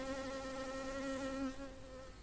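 A bee buzzes in a close, steady drone with a bright, insistent tone, wavering slightly in pitch for a couple of seconds and then fading a little.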